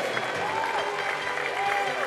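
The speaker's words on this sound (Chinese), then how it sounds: "我们是不是再给我们 钟景浩选手以及陈连红选手一个热情的掌声" A crowd applauds steadily, clapping filling the space, while voices talk and call out over it.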